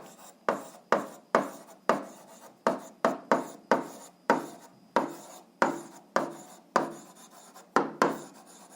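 A pen scratches across paper in short strokes, about a dozen quick bursts in an uneven rhythm with brief pauses between them, close and dry with no talking.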